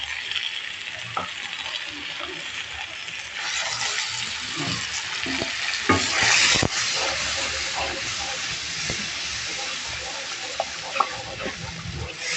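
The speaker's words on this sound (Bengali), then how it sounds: "এখন আমি ওই যে পেঁয়াজ রসুন এগুলো একসঙ্গেই দিয়ে দেবো ভালো করে কষিয়ে নেব" Onion and garlic frying together in oil while being stirred, a steady soft sizzle and hiss with occasional scrapes and clinks of a spoon in the pan, one louder burst of sizzling midway.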